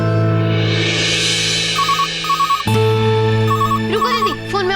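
Telephone ringtone repeating in short electronic warbling bursts, loud and close, over a steady background music bed in a domestic TV drama scene.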